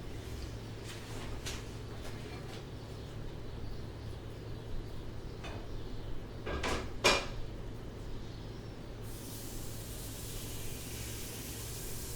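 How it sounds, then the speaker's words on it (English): Homemade burger patties go into a frying pan with a few clinks of metal, then a steady, fairly loud sizzle takes over and brightens toward the end. "I'm just going to pop them in the pan"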